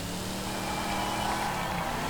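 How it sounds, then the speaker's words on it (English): An American muscle car in Forza Horizon 5 drones steadily with a high supercharger-like engine whine over a constant broadband roar, loud and continuous throughout. "I know it sounds like it has a supercharger, but it doesn't. It could just be a whine"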